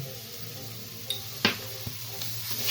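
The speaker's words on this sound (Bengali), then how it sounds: "ভালোভাবে নেড়ে নিই।" Cauliflower paratha filling stirred in a pan with a spoon, a soft steady sizzle broken by a few sharp scrapes and clinks of utensil against metal, close and alone.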